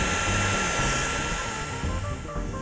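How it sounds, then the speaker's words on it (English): A blow dryer runs steadily at close range, warming wax on a styled handlebar mustache, with a continuous whooshing airflow and motor hum that holds level throughout. "I'll use the blow dryer to heat it back up and evenly disperse it among all the hairs"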